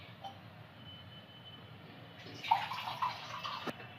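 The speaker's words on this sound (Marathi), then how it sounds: "तर मी अजून थोडं पाणी घालते." Water is poured into a pot of misal curry, a quiet background hiss giving way halfway through to a louder splashing pour with a couple of bright drips, then a short knock near the end.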